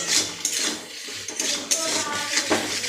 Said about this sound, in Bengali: এখানে আমি মশলা কষিয়ে নিচ্ছি